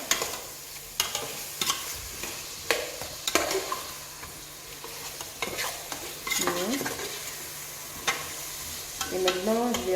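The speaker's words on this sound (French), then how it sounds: "Je vais mélanger comme ça." Garlic is stirred into a squash sauce sizzling in a pan, with close scraping utensil strokes over a steady frying hiss.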